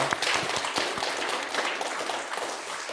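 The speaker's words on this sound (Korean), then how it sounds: "박수로 한번 환영할까요?" A church congregation claps in welcome for newcomers during Sunday worship, a scattered, irregular patter of hands that stays steady and moderately loud through the short stretch.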